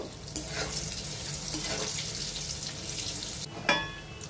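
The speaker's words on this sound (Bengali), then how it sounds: "বেগুনগুলোকে লাল করে ভেজে নেব।" Aubergine pieces frying in oil with salt and turmeric give a continuous close sizzle, broken by a few clattering stirs and a sharper knock near the end.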